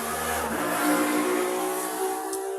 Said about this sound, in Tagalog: Sorry guys kung maingay yung motor.